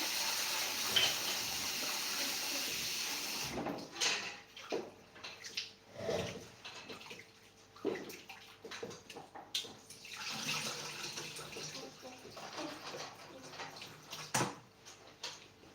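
Beans being washed under a running tap for a paprika and onion blend, with water gushing and splashing irregularly in a bowl close by, the flow surging and easing as the beans are stirred.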